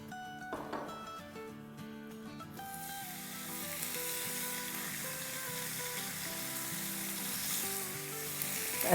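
Chicken sizzles and fries steadily in hot oil for a quick Turkish doner-style dish, a continuous close crackle that swells after a quieter, stirring start, with faint tonal background sounds throughout.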